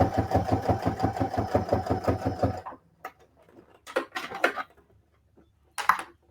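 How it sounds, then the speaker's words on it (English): A sewing machine stitches bias tape in a rapid, even mechanical chatter for about two and a half seconds, then stops, followed by scattered light clicks and handling noises. "I'm going to continue to sew"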